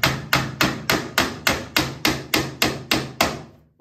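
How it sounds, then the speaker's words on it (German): A hammer knocks fittings into a corner desk during assembly: eleven sharp, evenly spaced blows, close and clear, with nothing else heard. "Und dann hauen wir die Dinger da rein."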